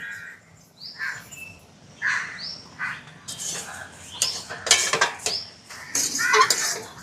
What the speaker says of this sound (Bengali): আস্তে আস্তে নাড়াচাড়া করে 5 মিনিট মতন প্রায় এটাকে একটু নেড়ে নেব